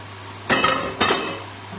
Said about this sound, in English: tip the pasta into the pan